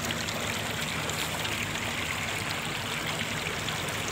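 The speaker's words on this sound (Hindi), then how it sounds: "ये आप देख रहे हैं कि पत्थरों में से पानी अपना रास्ता चीरता हुआ अपने मंजिल की तरफ रवा दवा है" Water rushing through stones at Manchora Dam, a steady broadband outdoor flow that is fairly loud and constant throughout, with no talking.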